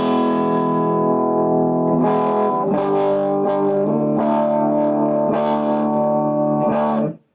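Electric guitar, a Telecaster Nashville with a 0.022 tone capacitor, played through effects with a dark, woolly distorted tone; sustained chords with a few strums, close and loud, ending abruptly.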